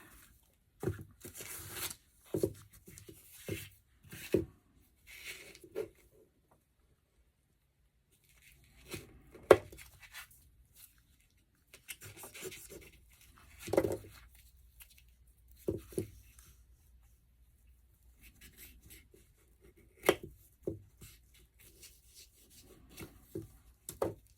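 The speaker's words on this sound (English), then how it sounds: "So I'm going to cut these two apart." Homemade fire starters are cut apart by hand, producing scattered dry tearing and rubbing bursts with quiet gaps between them, close and fairly soft, with no talking.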